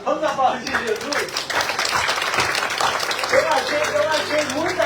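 A church congregation at a Portuguese-language communion service claps for Jesus, a steady, moderately loud round of many hands with voices mixed in and speech rising over it toward the end.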